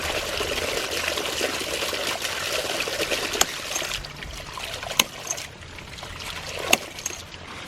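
Water rushes steadily through a ram pump whose waste valve is held open, a continuous near splashing flow with a few sharp clicks and knocks standing out over it.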